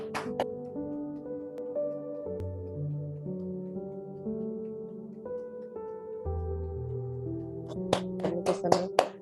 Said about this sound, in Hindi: जब भी आप रेडी हो, हम ताली बजाएंगे।